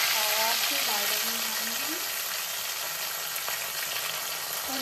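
Pahadi urad dal chainsoo paste fries with turmeric in a pan, giving a dense, even sizzle that stays loud and close for the whole short stretch.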